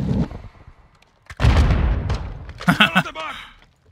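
Gunfire rings out in the Modern Warfare 2 campaign: a few sharp, loud bursts and booming shots, packed close together in the middle and toward the end, with quieter moments between them.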